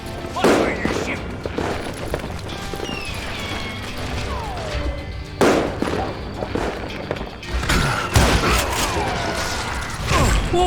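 Gunfire in the Wild West shooter Call of Juarez: Gunslinger, loud sharp shots in bursts with mechanical clicks and crashes between them, mixed with other game sounds and a voice.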